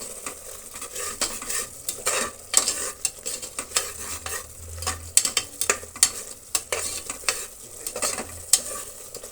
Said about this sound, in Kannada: 1 ನಿಮಿಷ ಹಾಗೆ ಕೈ ಆಡಿಸೋಣ, ಹಸಿ ವಾಸನೆ ಹೋಗೋ ತನಕ.